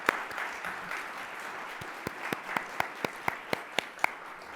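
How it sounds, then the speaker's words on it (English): Applause from a luncheon audience at a Columbus Metropolitan Club panel on bankers, a steady wash of clapping with distinct sharper claps standing out near the end, moderately loud in a room. "Let's give them all a round of applause."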